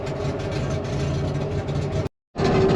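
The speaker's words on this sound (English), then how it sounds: "the car is very, very loud. It's because it's living basically on an open downpipe." A turbocharged widebody BMW E30 running an open downpipe drones loudly and steadily, cutting out briefly near the end before resuming at the same level.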